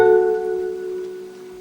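One over-the-neck guitar chord, fingered T5, S1, S2, T3, rings out already sounding and decays gradually over a couple of seconds, solo and up close.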